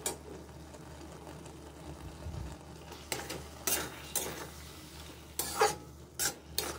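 Prawns are stirred into bottle gourd simmering in its own water in a pan, with a soft, low sizzle broken by several close, sharp spatula scrapes and knocks toward the end.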